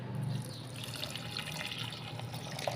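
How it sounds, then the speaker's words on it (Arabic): Milk is poured into a pan holding a flour mixture, making a soft, continuous liquid pouring and gentle bubbling that stays fairly faint and close throughout. "هنزل لبن."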